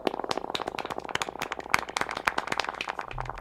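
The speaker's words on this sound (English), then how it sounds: "Dub clap for all the moms." Rapid, steady hand clapping from a small group cheering for moms during a live dub music stream, dense and continuous with no talking over it.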